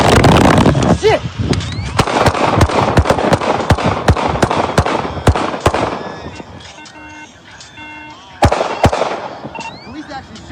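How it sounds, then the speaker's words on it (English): Police gunshots ring out in a rapid, loud volley of sharp cracks, dozens of shots in quick succession, pausing briefly before a few final reports, with shouting voices mixed in. "Police actually shooting."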